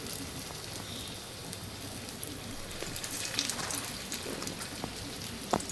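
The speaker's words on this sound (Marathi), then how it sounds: "ह्याच्यात आता आपण टिक्क्या टाकूया तळायला." Soybean kebab patties fry in oil in a pan, giving a steady soft sizzle with scattered small pops and crackles, fairly quiet throughout, with some faint talk in the background.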